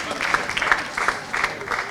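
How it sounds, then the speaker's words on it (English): A crowd at an event applauds in a steady, sustained round of clapping, fairly close and full, with a voice speaking faintly underneath. "A big round of applause to Kenyans."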